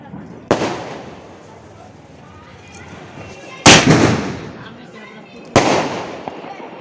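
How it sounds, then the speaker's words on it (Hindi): Firecrackers bursting outdoors at a family Diwali celebration: three sharp, loud bangs spaced a couple of seconds apart, each trailing off quickly, over a low background murmur. "और ए साइड पति देह तको अपन फटाका मन ला फोड़े के शुरू कर डले हवे।"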